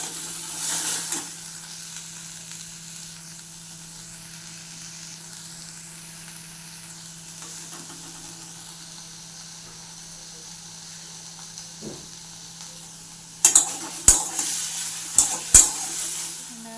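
Drumstick (sajna) curry cooks in a pan with a low, steady sizzle and hiss, faint and even for a long stretch, then a few sharp clinks and scrapes of utensil against the pan near the end.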